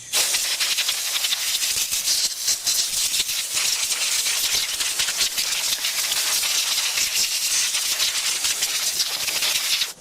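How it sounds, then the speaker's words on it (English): Compressed air blows dirt from around holes on the engine of a Chevy C50 truck before the upper intake plenum comes off. A loud, close, continuous hiss fills the whole clip, with slight fluttering as the nozzle moves. "take compressed air and blow around all these holes and things like that"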